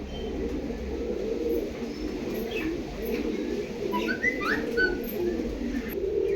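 Pigeons coo in a soft, continuous low murmur, with a few faint chirps scattered over the top.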